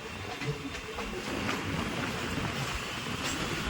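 A Kolkata Circular Railway train rolls slowly across a bridge, giving a steady broad rumble and rattle of wheels and carriages at a constant loudness throughout.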